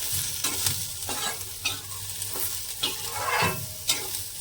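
Chutney ingredients with asafoetida fry in a pan, a close, steady sizzle broken by several scraping stirs of a spoon, with no one speaking.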